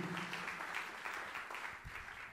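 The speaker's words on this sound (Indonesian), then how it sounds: "Yang setuju berikan tepuk tangan yang meriah buat" A church congregation claps together, a faint, steady wash of many hands applauding at a distance, sustained through the moment with no voices on top.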